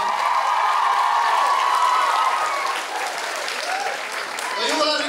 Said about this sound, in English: Deserves another big round of applause.